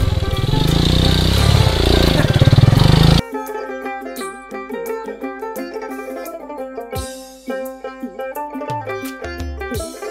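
A motorcycle crosses a rough char road in a village, its engine roaring loudly for a few seconds, then softer revving and sputtering with uneven bursts as it labors over the bumpy ground.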